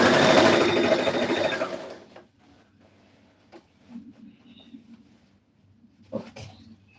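Sewing machine stitching fabric for a red carpet dress: a loud rapid whirring burst lasting about two seconds, then quiet handling clicks and rustles with a brief clack near the end.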